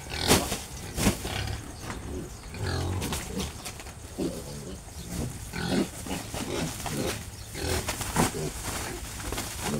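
Native pigs grunting and snorting close up, with repeated rough grunts and occasional louder squeals over a busy pen background.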